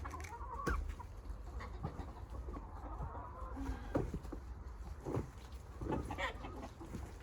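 Several chickens cluck and murmur nearby in a foggy vegetable garden with ducks, over steady outdoor background noise, with scattered short calls throughout.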